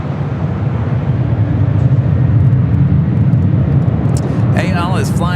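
An airliner taking off at LAX, bound for Munich, gives a loud, sustained low jet roar that swells slightly midway, with brief chirping sounds near the end.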